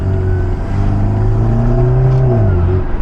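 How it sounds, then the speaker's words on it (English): A turbocharged 500 hp BMW 330i engine strains and revs under load going uphill, its pitch rising steadily with a whirring turbo whine, loud and close. "You can hear it trying. The turbo is spooling hard."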